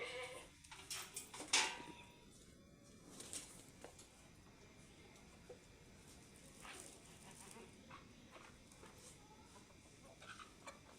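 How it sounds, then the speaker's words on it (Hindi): Goats and young kids being let out in the morning on a village farm bleat intermittently, with a few sharper calls early on and softer cries later, somewhat distant over a background murmur that may include chickens. "एक बकरी को छोड़ लिया, बकरे को छोड़ने लगी।"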